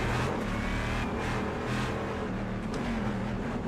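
Race car engine in the iRacing sim, a steady loud drone with slight revs and shifts, continuous and close, with no speech over it.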